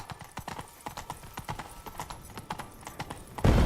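Horse hooves clip-clopping at a steady trot in The Witcher 3: Blood and Wine, close and rhythmic throughout, ending with a louder burst of rustling noise.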